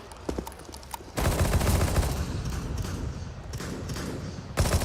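Rapid gunfire from an XM shotgun in a Counter-Strike match, a dense, loud spray of shots that bursts in after a second and runs on nearly steadily, with a fresh burst at the end.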